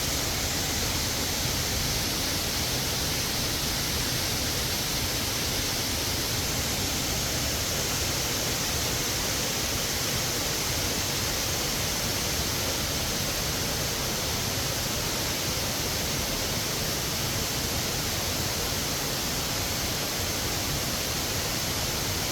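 A forest waterfall at Tat roars in a steady, unbroken rush of water, dense and even from start to finish, with no voices.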